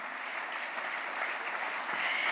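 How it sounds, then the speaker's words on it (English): Audience applause at an awards ceremony in Mumbai, a steady dense clatter of many hands clapping in a hall, sustained and moderately loud without a break. "Let's give a huge round of applause for TiE Mumbai Hall of Fame."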